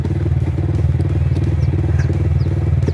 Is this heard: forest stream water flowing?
no